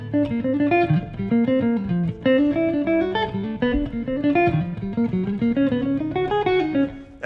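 A quick improvised solo of pentatonic notes over a chord progression, with a busy line of short melodic notes on top of sustained chords, played steadily and without any talking.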